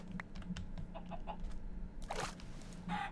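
Blocky Minecraft chickens cluck in short, soft bursts scattered over a few seconds, with faint game clicks and footsteps around them and no voices.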